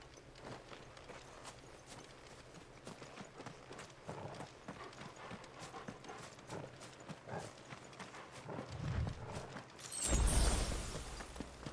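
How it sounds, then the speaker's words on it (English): A dog walking in a Final Fantasy video game has footsteps that sound like a horse, a steady clip-clop of hooflike steps running through in-game sound, with a louder swell near the end. "the doggo sounds more like a horse than it does a fucking doggo by the sound of its footsteps"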